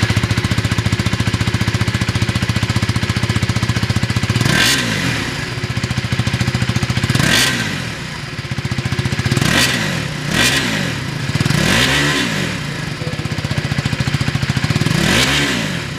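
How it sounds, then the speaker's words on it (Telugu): A 2025 KTM Duke 390 motorcycle with an underbelly exhaust idles with a loud, rapid thrum. The throttle is blipped about six times, each rev rising sharply and then dropping back to idle. "ఒకసారి మనం ఎగ్జాస్ట్ నోట్ ఏ విధంగా ఉందో ఒకసారి చెక్అవుట్ చేద్దాం."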